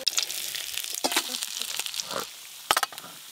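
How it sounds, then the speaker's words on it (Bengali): Small fresh fish frying together in oil for a village-style curry, crackling sizzle with irregular sharp pops and spits over several seconds, some faint background sound but no clear talk. "এই মাছগুলো একবারেই ভেজে নেব।"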